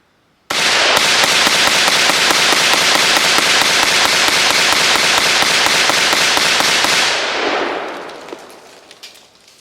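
Anderson AM15 rifle with a lacquer-coated ammunition load firing a long, rapid string of sharp, loud shots outdoors, dirt flying from the impacts; the cracks stop abruptly after several seconds and leave fading ringing and quieter ambience.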